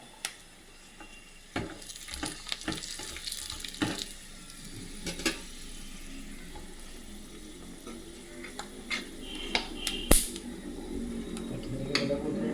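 Almonds fry in a pan for a moong dal halwa, giving a gentle sizzle broken by scattered spoon scrapes, clinks and watery stirring sounds, fairly close and without talk.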